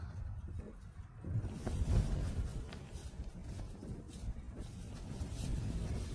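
Low, steady wind rumble buffeting the microphone outdoors, with gusts rising and falling and no voices.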